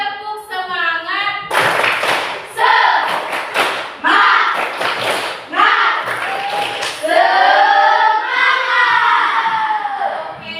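A classroom group performs rhythmic 'tepuk semangat' clapping, sharp patterned hand claps and thumps in bursts mixed with children chanting and shouting along.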